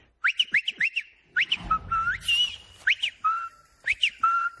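A person whistles in an imitation of another man's signature whistle, giving a lively run of short rising chirps followed by longer sliding notes, loud and close with no talk over it.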